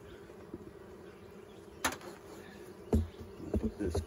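Honey bees hum steadily around a hive, a soft continuous buzz underneath several dull knocks and clunks from handling the hive.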